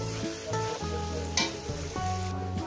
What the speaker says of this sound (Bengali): পেঁয়াজটাকে আমি মিনিমাম 2-3 মিনিট ধরে ভেজে নেব।